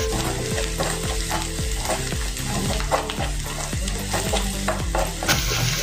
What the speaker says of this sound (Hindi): अभी 2 मिनट हो गए प्याज भूनते हुए।